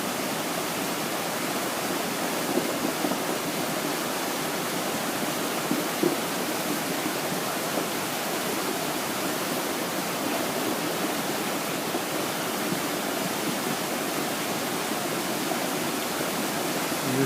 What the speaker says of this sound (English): the rushing water and the enormous activity there